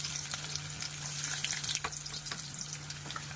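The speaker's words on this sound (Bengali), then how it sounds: "তেলটা আমার গরম হয়ে গেছে। রসুনটা দিয়ে দিচ্ছি।" Garlic sizzling and crackling in hot mustard oil, a steady crisp fry with scattered pops over a faint low hum.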